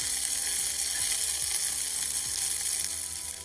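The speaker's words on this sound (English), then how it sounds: "I drop in my garlic and onion and stir fry more to" Garlic and onion stir-frying in a pan with rendered fat, giving a continuous bright sizzle with occasional faint scrapes of stirring.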